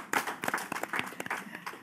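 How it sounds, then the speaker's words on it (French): A French-speaking audience applauds a guest with brisk, uneven clapping, fairly close and moderately loud, with individual claps standing out in a short burst. "Je vous demande d'applaudir très fort."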